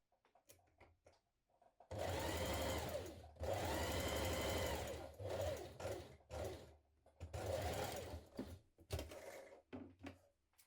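A home sewing machine stitches a blouse dart in three loud motor-driven bursts of rapid needle chatter, separated by brief pauses with small clicks and fabric handling.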